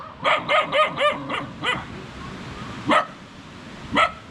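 A dog barks in a quick run of about six sharp barks, then two more isolated barks after pauses, fairly close.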